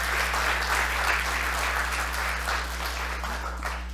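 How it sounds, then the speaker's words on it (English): A dense, steady wash of audience applause at a launch event, many hands clapping together at an even level for several seconds, with no speech over it. "if you could just please give Chuck a round of applause for all that he's done as well"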